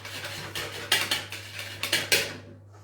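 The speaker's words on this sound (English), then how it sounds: "So again, just whisking it, taking all my frustrations out on the batter." Pancake batter made with semi-skimmed milk being whisked in a bowl, giving quick scraping clatters and a series of sharper metallic knocks against the side, close and fairly quiet.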